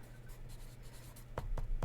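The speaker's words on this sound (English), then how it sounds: "I'm writing notes." A pen scratches notes on paper during a graffiti doodle session, a faint, close, soft scratching that ends in a few firmer strokes, with no talking.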